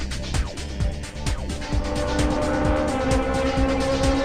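A Formula BMW race car engine in Live for Speed revs hard through repeated rising sweeps, loud and close, with quick gear-change dips in a steady driving rhythm.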